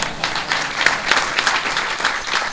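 An audience at a memorial kirtan gathering claps in sustained, fairly close applause. The many hands make a steady crackling patter for the whole stretch, and there is no talk over it.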